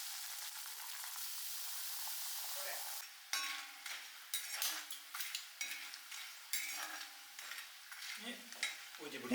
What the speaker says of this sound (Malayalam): ഇപ്പം നമുക്കിതാ അത് വറുത്ത് കോരാനായി.